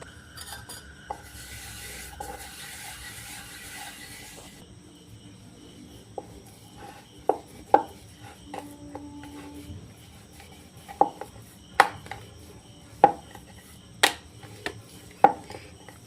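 Aloo paratha dough balls pressed and rolled flat with a rolling pin, giving soft rubbing strokes and a run of sharp taps against the board, close and fairly clear over a quiet room hum.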